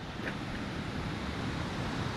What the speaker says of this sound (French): La cascade blanche.